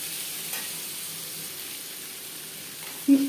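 Vegetables sizzle gently in a pan as the base for party-style fried rice, a faint, steady frying hiss that runs unbroken, with a brief knock near the end.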